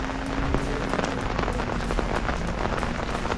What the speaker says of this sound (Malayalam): എന്തായാലും നല്ല മഴയാണ്.